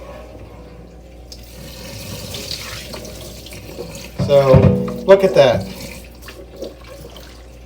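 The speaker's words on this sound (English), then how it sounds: "I'm going to slowly dump this out so you can see the water." Dirty water from a Bissell Big Green carpet cleaner tank poured into a sink, a steady wash of running water that swells into louder splashing gushes near the middle while a person talks over it.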